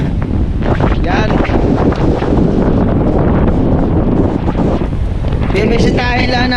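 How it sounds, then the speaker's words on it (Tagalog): Strong wind buffets the microphone outdoors near a river, a loud continuous roar with rumbling gusts throughout, and faint traces of voices in the background. "Pasensya na at medyo malakas ang hangin."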